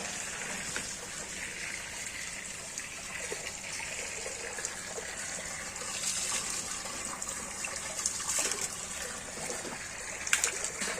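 A water softener switched from backwash to rinse lets out a steady, quiet stream of running water, a constant gushing flow with faint splashes throughout.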